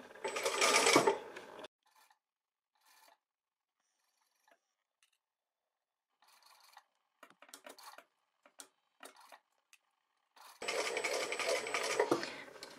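A sewing machine stitches around the head of a sleeve in short intermittent runs of quick mechanical ticking and whirring, separated by quiet pauses, with louder fabric handling at the start and end.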